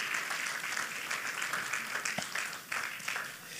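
Church congregation clapping during a sermon, a faint, fairly distant spread of applause that rises and falls unevenly over a few seconds.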